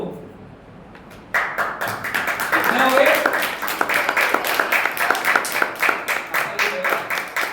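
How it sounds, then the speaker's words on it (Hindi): A church congregation breaks into loud, rhythmic clapping after a brief pause, many hands beating together in a steady, energetic pattern that continues while a preacher keeps talking over it. "बोलो हालेलुया, ताली मार दो।"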